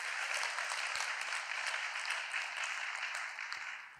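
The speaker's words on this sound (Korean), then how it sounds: "여러분 축복의 박수를 한번 드립시다" A congregation at an all-night prayer vigil gives a blessing applause, a broad, even wash of many people clapping that stays steady before easing off slightly at the end, with no voices over it.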